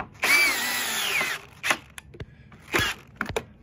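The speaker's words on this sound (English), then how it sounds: "And I take my drill" Power drill drives a screw into a Dura Life composite decking board on a deck staircase: a loud whirring run of about a second, then several short bursts and bumps as the screw seats.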